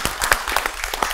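Studio audience applauding on a Vietnamese TV dating show, a brief burst of many hands clapping at close range, steady and fairly loud with no talk over it.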